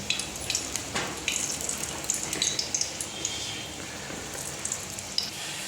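Oil with a little ghee heating in a kadai, giving a steady soft sizzle with scattered crackling pops, close and fairly quiet, with no voices.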